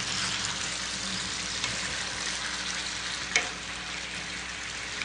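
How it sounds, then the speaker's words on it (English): Continuous sizzling of Greek pork frying in olive oil, steady and close, with a brief clink partway through. "Let me check our Greek pork. I hear it sizzling."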